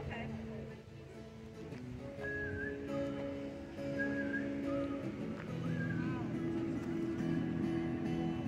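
Whistled melody in live music at an outdoor farmers market, a few sustained high tones drifting over guitar-like accompaniment and crowd chatter, moderately loud and mixed under people talking nearby.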